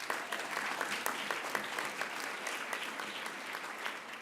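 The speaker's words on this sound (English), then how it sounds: "Could I get a round of applause for them?" Audience applause at a livestreamed awards event, steady clapping from a room full of people, moderately distant and continuous throughout with no talking.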